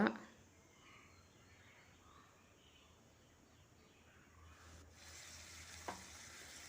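Tomatoes dropped into chicken liver frying in a pan: a steady quiet sizzle that swells and brightens as they land, with a soft clink of a utensil, no talking.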